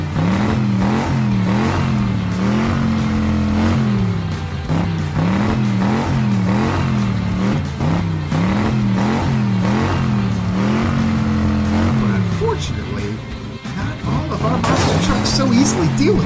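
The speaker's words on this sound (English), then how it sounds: "Our monster trucks drove up to the obstacle one at a time." Cartoon monster trucks revving their engines during a race, a loud, continuous engine drone that rises and falls in repeated revving cycles, close up and dominant, with music in the background.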